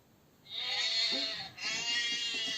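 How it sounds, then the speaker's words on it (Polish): A sheep gives two long, wavering bleats close by, one right after the other with a brief pause between them. "Owieczka. Słuchajcie, jest owieczka."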